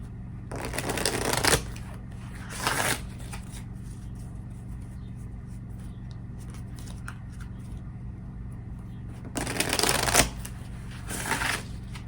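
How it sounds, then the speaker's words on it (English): Tarot cards being shuffled in three close, crisp bursts of riffling separated by quiet pauses, with a faint steady hum underneath. "I'm gonna pull some tarot cards real quick."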